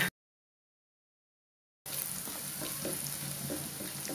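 Turmeric and fifteen or sixteen dried red chillies fry in oil for tomato pickle, a steady close sizzle that starts abruptly after a short silence.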